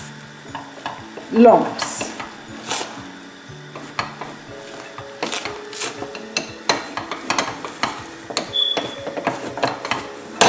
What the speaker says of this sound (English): So I'll be stirring it into the hot water, working quickly so as to avoid